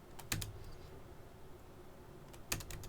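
Keys clatter on a computer keyboard while a command is entered on a Cisco Nexus 9000v data center switch: a short burst of rapid keystrokes, a pause of steady low hum, then another quick burst of taps.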